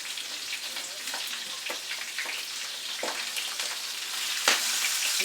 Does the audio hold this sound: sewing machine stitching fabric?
no